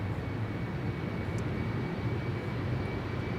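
A KLM Embraer 190 jet takes off from Schiphol's Polderbaan bound for Hamburg, a low, steady distant engine rumble with no voices.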